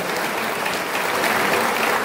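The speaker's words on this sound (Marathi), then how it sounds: "सर्वांनी टाळ्या वाजवून त्यांचं स्वागत करायचं आहे." Audience at a Shiv Jayanti kirtan applauding to welcome Manoj Jarange Patil, a dense, steady wash of many hands clapping at close range throughout, with no talk over it.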